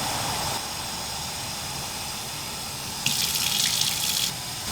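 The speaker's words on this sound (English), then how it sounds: "You're getting the 12 cups of water ready in the other pot for one pour in later." Tap water gushes into a pot during cooking of moong bean soup, a steady broadband rush that swells louder for a stretch near the end, with no talking.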